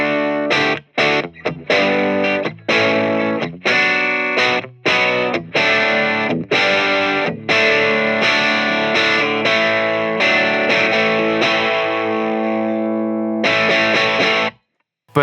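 Electric guitar through a Hiwatt Leeds 25R amp with the gain raised, playing loud, slightly fizzy, overdriven chord stabs and riffs in a choppy rhythm that ends on a sustained, ringing chord, with no talking.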